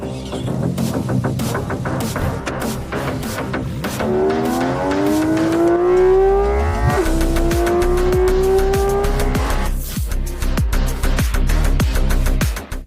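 A loud, close Porsche Cayman GT4 RS, fitted with a naturally aspirated Porsche 911 engine, revs hard, its pitch climbing steadily through the gears with brief drops between shifts, roaring continuously throughout.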